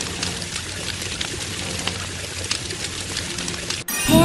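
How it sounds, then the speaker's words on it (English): Water pours in a steady hissing rush to put out a fire at a zoo in a children's fire truck game, running continuously before cutting off abruptly near the end. "Use water to put out the fire."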